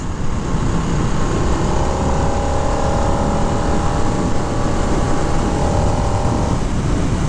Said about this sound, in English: And the engine sounds really unique